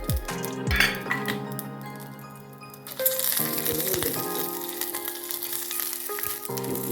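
Steady sizzling of green chillies, garlic cloves and ginger roasting in oil, growing louder partway through, with occasional clinks of a utensil against the pan.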